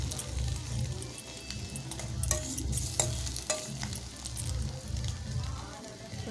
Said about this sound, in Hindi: तो आमर ये प्याज भजा चलती